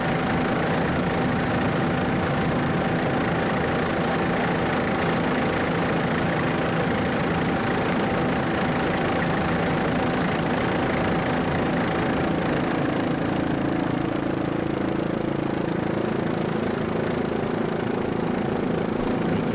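Offshore racing powerboat engines drone steadily through the whole stretch on the bumpy backstretch of the 2008 Suncoast Offshore Grand Prix at Sarasota, a continuous, fairly distant rumble with no voices.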